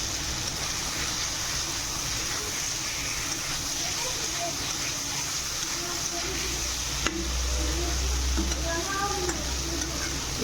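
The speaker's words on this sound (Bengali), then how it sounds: "এবার আলু দিয়ে আলুটার সঙ্গে মশলা ভালো করে কষে নেব।" Boiled potatoes fry with spices and tomato in a pan for a small-fish curry, a steady close sizzle with occasional stirring scrapes, and a deeper rumble coming in toward the end.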